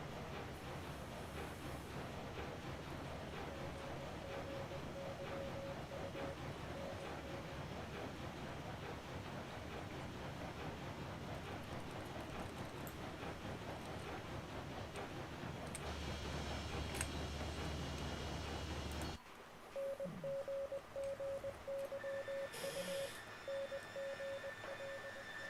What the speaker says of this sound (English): And yes, I know I left my train running.